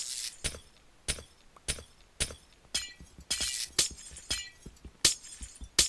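Glass blocks broken one after another in Minecraft (FTB Continuum modpack): about ten crisp shattering crashes at a steady, roughly half-second pace, close and clear with no talk.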